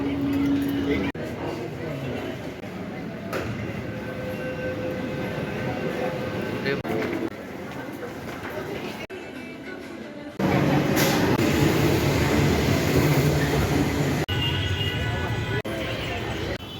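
A Howrah metro train in Kolkata rumbles along underground with rising and falling mechanical roar and abrupt shifts in loudness, while people talk nearby.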